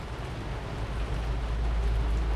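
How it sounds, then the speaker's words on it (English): Continuous broadband hiss of rain falling steadily on a moored sailboat, with a low rumbling background and no voices. "It's just started raining again."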